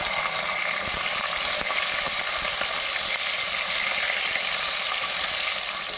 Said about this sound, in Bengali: প্রথমে আমি সজনাগুলোকে ভেজে নেব লাল লাল করে